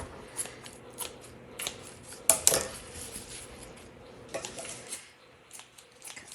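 A raw whole chicken is cut apart with a blade, giving close, quiet snips and crunching cuts, with a louder cluster of crackly snaps midway and softer handling sounds around it.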